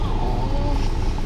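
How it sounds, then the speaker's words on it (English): A small Fiat Panda drives along a coastal road toward Split, its engine and tyre noise a close, steady drone filling a brief moment from inside the car. "We are having the final drive in Nancy the Fiat Panda."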